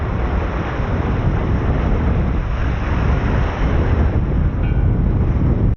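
Strong wind, about 25 knots, roars over the microphone while heavy ocean swells rush past a small sailboat running downwind alone in the Roaring Forties, a loud, unbroken broadband blast with no voices.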